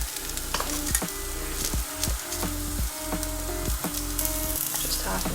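Sliced onion fries in a pan for chicken tikka masala, giving a loud, continuous close-up sizzle with a steady underlying hum and occasional sharper crackles.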